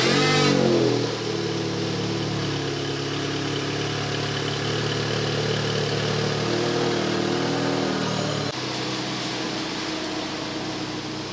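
A newly bought daily-driver car pulls away after idling, its mid-pitched engine revving up and then holding a steady drone close by. A gear change comes briefly near the end.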